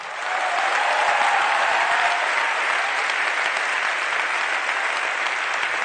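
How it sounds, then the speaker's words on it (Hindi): An audience at a spiritual discourse breaks into sustained applause, a dense, steady wash of many hands clapping together that starts quickly and holds at an even level throughout. "हाथ में ताली तो लाओ"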